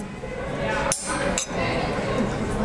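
Glasses clink together in a toast, two bright short chinks a half second apart, set against steady room noise.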